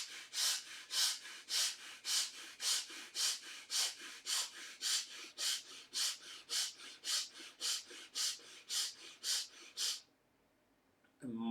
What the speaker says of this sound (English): start breathing quick and short breath from the chest only for 2 minutes